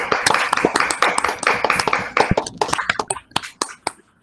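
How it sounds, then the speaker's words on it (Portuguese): Online audience clapping at the end of an academic colloquium talk, with a sparse patter of hand claps from open microphones that thins into a few isolated claps before fading out. "Nós costumamos aqui abrir os microfones para bater palmas no final da apresentação."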